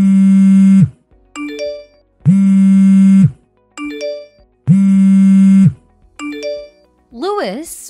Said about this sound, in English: Why aren't you answering my phone calls?